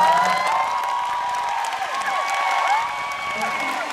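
A concert audience at an encore show in Seoul cheers and claps continuously, a loud, sustained crowd roar with whoops and shouts rising over steady applause, with no speech.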